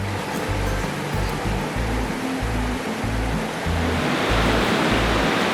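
A cool, shaded creek rushes steadily nearby, a broad continuous watery roar, with a low rhythmic thumping underneath and no talk.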